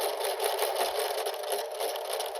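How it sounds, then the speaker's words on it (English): A home sewing machine tacks back and forth to lock the stitches at the end of a seam while piecing a quilt block, a steady close mechanical whir running evenly without pause. "I'm ending the seam here, so I'm going to have it take a tacking stitch."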